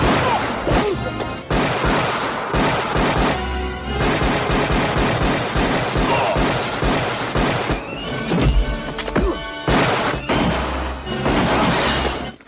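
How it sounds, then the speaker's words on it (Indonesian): Gunfire in an action film scene, with rapid bursts of loud shots mixed with crashes, shattering and a horse's whinny, dense and continuous throughout. "Namun sialnya, Paman Chen harus tertembak di kakinya."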